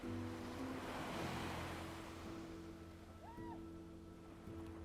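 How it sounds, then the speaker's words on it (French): Ocean waves wash over a sandy shore in a steady, broad rushing surge that swells and slowly fades, with a soft tonal hum beneath it. "l'eau qui arrive emporte tout avec elle pour laisser le sable lisse et effacé"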